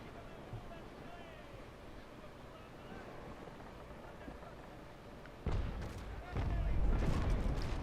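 Enemy warship cannons boom in the naval battle game Naval Action: two heavy, broadband blasts arrive near the end, over a steady wash of sea and wind ambience.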